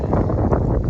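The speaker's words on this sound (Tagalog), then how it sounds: "It's so windy." Strong wind buffets the microphone outdoors on a farm, a loud, continuous low rumble with gusty swells and no voices.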